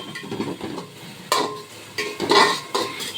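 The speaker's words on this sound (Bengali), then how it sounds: "এবার ভালো করে নাড়াচাড়া করে নিচ্ছি।" Ground pepper gets stirred into a fried rice mixture in a pan, heard as close, uneven scraping strokes over a faint sizzle, a few louder sweeps standing out, without speech.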